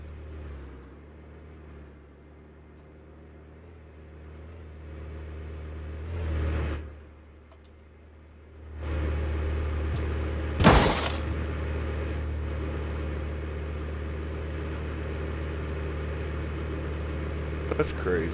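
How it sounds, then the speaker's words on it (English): A car engine in the BeamNG driving game hums steadily at low pitch, dips away briefly, then swells back as it passes, with a short sharp crack partway through and someone talking over it. "I hear a car, but I don't see one."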